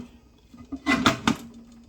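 Metal lid set onto a T-Fal 22 Qt pressure canner, a short cluster of two or three close clanks and scrapes of metal on metal, with a quiet room hum before and after.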